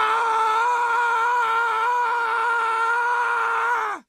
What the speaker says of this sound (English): let's have a moment of screaming for the biomes that have been sacrificed to make this update